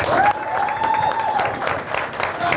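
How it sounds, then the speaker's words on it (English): Audience at a charity boxing event in Manchester breaking into a round of applause, a short burst of crowd clapping over a humming hall with a faint tonal whine. "Round of applause."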